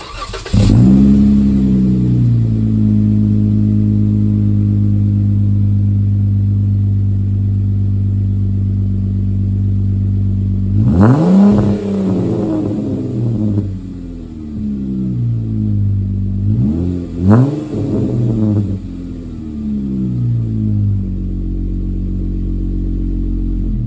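Jeep JKU with a Flowmaster American Thunder exhaust starting up, then idling with a deep, loud burble and revving in three bursts, the first sharp and the later pair close together, heard up close without talk.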